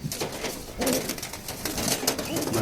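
Domestic pigeons, including cross-breeds, are let go one at a time, giving close cooing calls and bursts of flapping wings against a noisy background.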